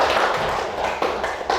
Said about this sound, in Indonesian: kita kasih aplaus dulu untuk teman-temannya yang sudah bertanya